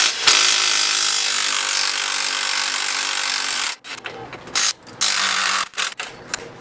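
An impact wrench rattles loudly and steadily on a suspension nut of a sixth-generation Camaro during a lowering spring install, then stops and gives several short bursts.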